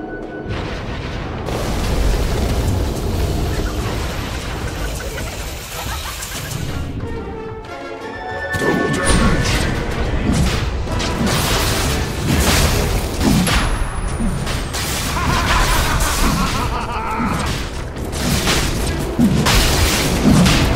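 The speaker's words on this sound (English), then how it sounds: "Dire's middle tower is under attack." Dota 2 match with a tower under attack: continuous dense battle noise of booming impacts, bursts and spell effects, loud and sustained throughout, with a brief dip in the middle before the clash swells again.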